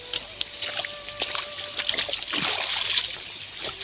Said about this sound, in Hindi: इतना पानी हो रहा है रास्ते।